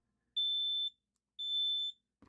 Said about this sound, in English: Hold down the test button on your smoke detector.